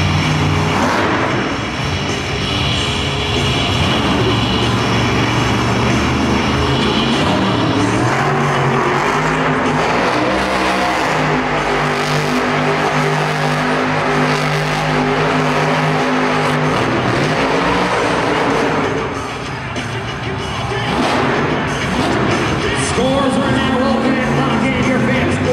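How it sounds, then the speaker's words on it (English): Monster truck engine roaring and revving hard while spinning donuts on tacky dirt inside the Prudential Center arena, a loud continuous drone with crowd noise and an announcer's voice under it. "Max spinning up some cyclones on this real tacky dirt here at the Prudential Center"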